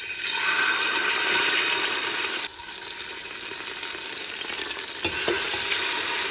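Chicken thighs frying skin side down in a soup pot give a loud, steady, broadband sizzle that carries on without a break, with a brief dip midway and a small clink near the end.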